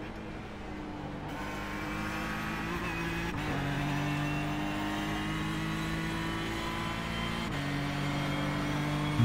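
An LMP1 prototype race car roaring past in a racing video game set at Daytona, a loud steady engine drone with shifting pitch that holds throughout at close range, without any speech.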